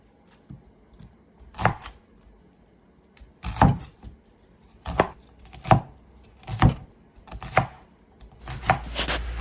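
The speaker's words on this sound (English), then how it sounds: "Don't you just love that knife sound? Like, pop, pop, pop, pop, pop, cutting up them onions" Knife chopping onions finely on a board, a series of about ten sharp, close thuds at an uneven pace, growing quicker toward the end, with no talking.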